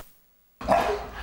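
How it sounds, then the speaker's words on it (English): A single stubborn dog barks loudly and close after a brief silence, a short burst of barking with no talk. "we're going to teach you how to get that stubborn dog to just be quiet a little bit"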